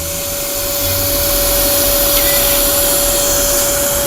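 A Karcher SE3-18 cordless spray extractor runs with a loud, steady suction whine and a sharp constant tone, close by and uninterrupted, with no voices.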